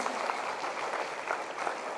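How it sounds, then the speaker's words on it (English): Audience of students applauding to welcome the chief guest at a college event, a dense, steady wash of clapping filling the hall for a couple of seconds. "Dear students, please join me in extending a warm welcome to Professor Srinivas S. Bali with a big round of applause."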